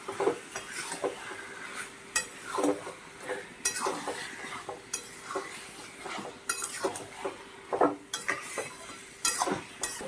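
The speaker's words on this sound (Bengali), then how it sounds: "মেখে রাখা চিকেন দিয়ে দিলাম, ভালো করে ভেজে নেব মশলার সঙ্গে।" Marinated chicken frying with spices in a pan, dominated by repeated metal utensil scrapes and clinks as it is stirred, with faint sizzling underneath.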